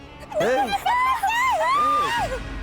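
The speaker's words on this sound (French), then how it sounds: "Vous avez entendu des cris aussi?" Nearby voices scream and yell in rising, wavering cries over a busy background of crowd babble in a tense outdoor scene.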